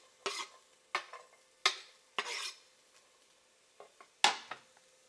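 Chopped shallots tossed into a hot oiled pan give quick clatters of a utensil against the pan, several sharp separate scrapes and knocks with faint sizzling between them.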